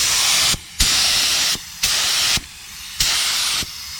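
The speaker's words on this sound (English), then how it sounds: "Got the spray gun ready. And you're ready to spray out." Four bursts of hissing spray from a paint spray gun painting car rocker panels, each lasting about half a second to a second, separated by short pauses, close and fairly loud with no talking.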